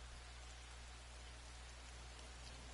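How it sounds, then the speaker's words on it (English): Steady, soft rain hiss in a video game forest scene fills the scene, a continuous wash of patter with no breaks and no voices over it. "Oh, it's raining."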